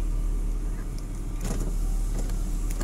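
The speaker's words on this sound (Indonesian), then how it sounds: "sekarang saya akan mengetes untuk power window bagian supir" Driver's side power window of a 1995 Volvo 960 Royal 3.0 automatic running, a steady motor whir over the car's low idle hum, with a brief rise in the middle.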